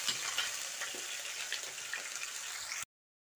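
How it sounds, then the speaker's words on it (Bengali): Onion and chilli paste fries in hot oil for a jackfruit curry, a close, continuous crackling sizzle with light stirring that cuts off abruptly into silence. "তারপর পেঁয়াজটা একটু তেলের সঙ্গে ভালো করে ভেজে নিচ্ছি।"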